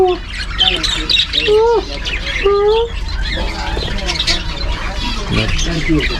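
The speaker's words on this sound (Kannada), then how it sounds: "ಗಿಳಿಗಳು ನೋಡಿ ಇನ್ನೊಂದು ದೊಡ್ಡ ಗಿಳಿಗಳು" Large and small parrots squawk loudly and often, with shrill calls overlapping a busy, noisy background and a voice speaking among them.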